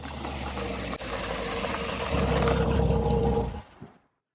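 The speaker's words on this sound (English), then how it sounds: "Hark, I hear the sound of a truck." A truck engine rumbles and idles, growing louder and rougher as it draws nearer, then cuts off abruptly into silence.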